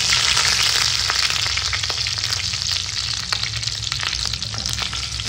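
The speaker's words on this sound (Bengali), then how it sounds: "প্রথমে তেলে আমি একটু দিলাম রসুন কুচি আর কারি পাতা" Chopped garlic and curry leaves frying in oil for a South Indian style dish, a loud, steady sizzle with crackling pops throughout, close and alone without talk.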